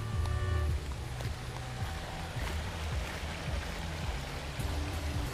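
A river flows past a highland camping ground at Curug Panjang in Indonesia, a continuous rushing stream heard at moderate distance under faint scattered background noises.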